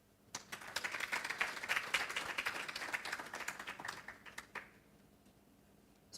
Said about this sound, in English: Kindly with a round of applause.